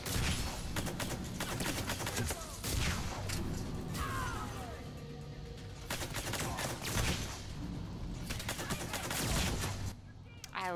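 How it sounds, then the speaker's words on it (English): Repeated pistol fire in Mass Effect 3, loud sharp shots coming in clusters throughout, mixed with game effects and a ringing whine, while someone talks in between. "Let's try this new pistol out."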